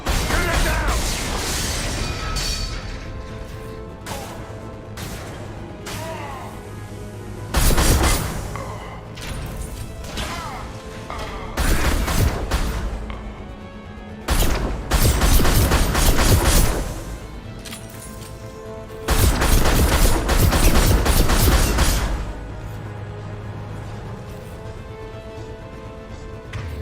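Concussive shot blasts and gunfire from the video game Mass Effect 2 come as loud bursts of impact and crashing mixed with bouts of weapon fire, separated by quieter stretches of game background.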